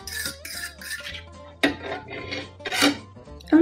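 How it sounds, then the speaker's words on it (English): A metal fork clattering onto a hard kitchen surface, a few sharp clinks and rattles among other light dish and utensil noises, close and moderately loud. "Oh no, my fork fell."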